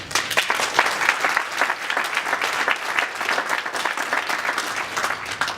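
Audience applause at a Poverty Truth community celebration event, steady and sustained clapping from a sizable crowd, even and fairly loud throughout with no talk over it.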